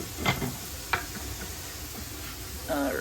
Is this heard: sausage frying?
yes